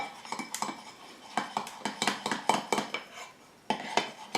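A homemade natural deodorant mix of arrowroot powder and other ingredients is stirred in a bowl, giving a quick run of close, rhythmic clinks and scrapes of a utensil against the bowl, with a brief pause near the end.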